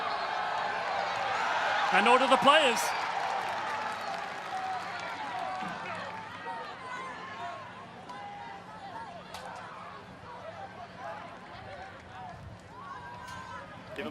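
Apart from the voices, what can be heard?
stadium crowd reacting to a tackle at a rugby match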